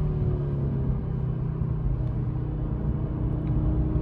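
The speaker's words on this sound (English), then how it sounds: "this engine sounds stellar" Steady low rumble of an Audi RS3 8Y 401 hp quattro engine heard from inside while driving, a constant deep drone with no revving peaks and no voices.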